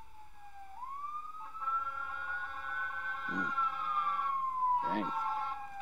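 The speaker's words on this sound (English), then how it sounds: "ignore the sirens, guys." A wailing siren rises and falls steadily through the clip, with brief low thumps and a short spoken word from a person nearby.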